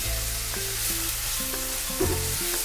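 Sliced onions hit a pan of ginger garlic paste for dhaba-style palak paneer, frying with a steady close sizzle while a spoon scrapes and clinks against the pan now and then.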